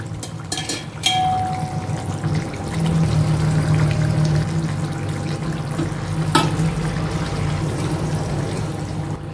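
Water is poured into egg curry frying in a pan, a steady sizzling rush with a faint tonal hiss, broken by a few sharp utensil clicks near the start and again later.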